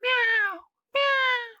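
A cat gives two clear, drawn-out meows, close and loud, separated by a brief pause.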